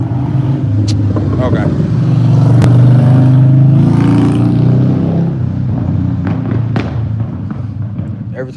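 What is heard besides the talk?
loud car passing by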